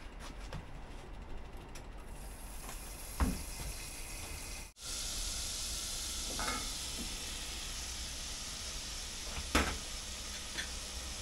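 Kale and spring onions sizzling in butter in a pan, a steady close hiss of frying with a couple of soft clacks from stirring, continuous throughout.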